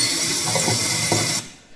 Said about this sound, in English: Can I test the tap?